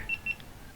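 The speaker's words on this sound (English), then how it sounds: "press the shutter button for 5 seconds. And when you hear that beep" GoPro Hero 7 Black camera powering on with two short, clear high beeps in quick succession followed by a fainter third tone, close and quiet.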